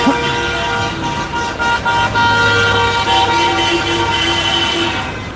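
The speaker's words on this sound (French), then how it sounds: "Ça n'arrête pas de klaxonner, c'est un truc de ouf" Car horns honking repeatedly in a busy street outside the CHU l'Archet hospital in Nice, steady and loud, overlapping with traffic noise.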